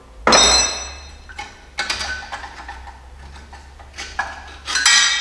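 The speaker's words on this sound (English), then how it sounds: "And then our U-bolt should just fall out from the bottom." U-bolts come free of a Jeep Cherokee XJ leaf spring with sharp metallic clanks and clinks, close by, followed by lighter rattling and a final jangle over a low hum.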